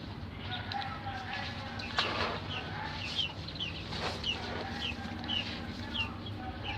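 Adult quail in a farm cage give repeated high, thin chirps scattered over a steady background hum. The calls are moderately near and fairly soft, with brief louder rustles among them.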